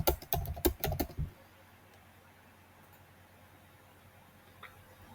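Quick keystrokes clatter on a computer keyboard for about a second, typing out a hotel search, then stop and leave only faint room hiss.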